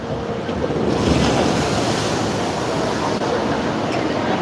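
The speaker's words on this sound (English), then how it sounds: "You can just kind of tell as it's coming up that hill and pushing the water." Rushing water from a log flume boat cresting a hill at the Mall of America, with a broad, steady wash and splash roaring throughout, close and loud, with no talk over it.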